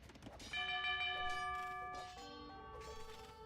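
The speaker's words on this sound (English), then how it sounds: "The bell was rung." Town bell in the video game Age of Empires II, ringing two clear resonant strikes roughly a second and a half apart, each leaving a long ringing tone, with no talk.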